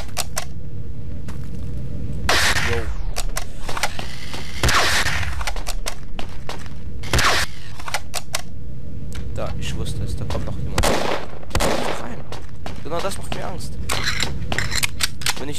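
Rapid, loud bursts of gunfire from a weapon in the shooter Danger Zone crack out in irregular clusters, mixed with sharp single shots and a player's voice talking over them.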